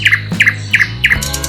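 A crow in a Hindi cartoon mimics another bird's call: four quick bursts of bright, high chirps in an even rhythm, loud and close, with no talk.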